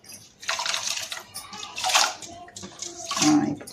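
Water is poured into a pot holding washed rice and moong dal for katte pongali. It splashes in three separate sloshing bursts with short pauses between them.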